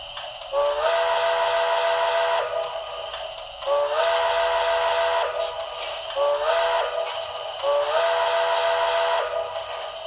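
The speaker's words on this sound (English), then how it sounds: "Always like it when you got a playable whistle" Four drawn-out steam whistle blasts from a Broadway Limited Imports four-truck Shay model locomotive's sound system, each a few seconds long with short gaps, loud and close.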